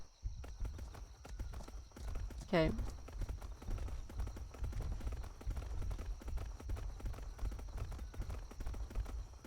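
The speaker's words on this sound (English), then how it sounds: "Oh, so we've got horses here as well." Horse hooves clip-clop in the video game ATLAS, a quick, steady run of soft hoof beats with a brief whinny in the middle. Someone talks over the sounds.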